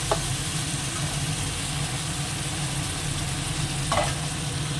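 Mustard seeds and green chillies tossed into hot oil in a pan, making a steady, fairly loud hiss of sizzling that holds evenly, with a couple of brief scrapes.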